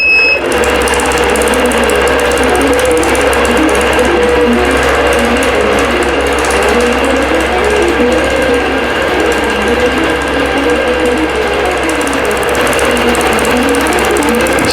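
A computerized quilting machine stitches out a design in a steady, continuous mechanical whir with a fast needle rhythm, close and loud, running alone without talking.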